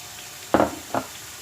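Onions tipped into hot oil in a pot, two quick bursts of sizzling splatter about half a second apart that settle back into quiet, close by.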